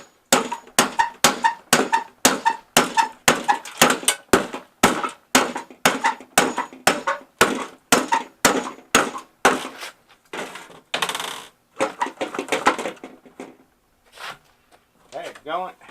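Hammering by someone unaccustomed to using their left hand during a small scrap project: about twenty sharp, evenly spaced blows for ten seconds, close and loud, then scattered knocks and rustling.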